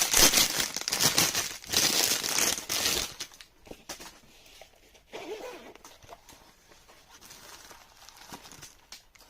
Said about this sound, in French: on va ouvrir cette boîte-ci pour voir ce qu'il y a dedans